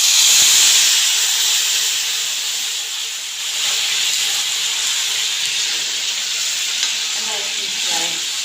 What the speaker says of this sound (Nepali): अब अघि मैले अदुवा लसुन खोर्सानीको पेस्ट हाल्दैछु